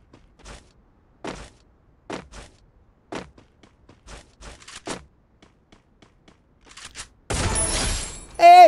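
Gunfire in the mobile video game Free Fire rings out as a series of sharp, evenly spaced single shots, each a short crisp crack, followed by a louder burst of game noise at the end.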